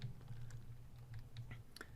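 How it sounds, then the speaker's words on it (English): Computer keyboard typing, faint quick clusters of key clicks over a low steady hum, close and quiet, no voice. "let me type this out"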